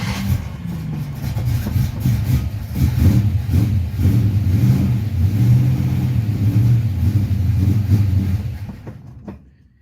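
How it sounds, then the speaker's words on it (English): A car engine with a Holley double pumper carburetor, cranked and then running to prime the fuel pump, giving a loud, steady mid-low engine drone with revving swells that cuts out near the end. "let's see if we can get the fuel pump to spit some fuel"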